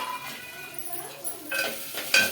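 Onions, green chillies, cashew pieces, dried red chillies and curry leaves tossed in hot oil for rice rava uppudu pindi, giving a brief burst of stirring with clinking utensil strikes over a light sizzle.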